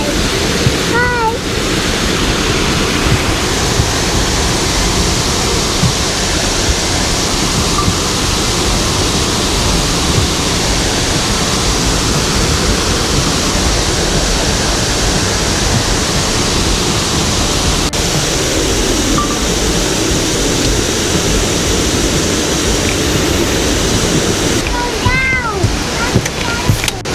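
Twin Falls Resort State Park waterfall in West Virginia roars as a steady, loud broadband rush throughout, with brief voices and a few light sounds near the start and end.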